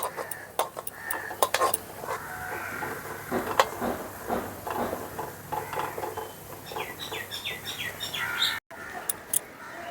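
Gram-flour nut crackers frying in a pan while a spatula stirs them, giving irregular metallic scrapes and clinks at close range, with birds chirping and tweeting in the background and no talk.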